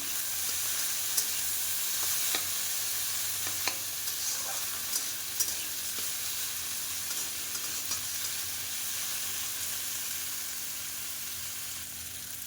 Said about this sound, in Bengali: সব সবজি ভেজে নিতে হবে